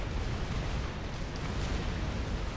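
Artillery fire in a strategy video game, heard as a continuous dense rumble of heavy booms and bursts blending into a loud, steady barrage with no clear pauses.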